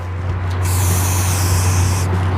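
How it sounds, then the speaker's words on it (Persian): Spray paint can hissing steadily against a wall, a continuous high airy spray lasting about a second and a half before cutting off, with a constant low hum underneath throughout. "سریع بکش و خیلی هم اسپری رو نزدیک دیوار نکن"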